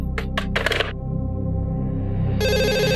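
A telephone rings with trilling bursts over a steady low background hum, then a higher electronic ringing tone starts near the end.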